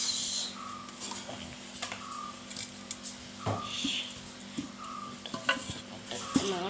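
Oil poured into a large pressure cooker while making chicken curry, with steady sizzling and frying crackle alongside metallic stirring and clinking of utensils against the pot, close and continuous.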